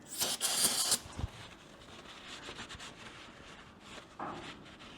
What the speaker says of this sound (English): Some brake cleaner.